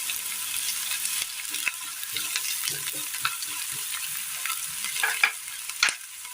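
A medium onion, chopped, fries in a pan for a breakfast curry, with a soft continuous sizzle and scattered scraping and tapping as a spoon stirs, ending with a couple of sharper knocks.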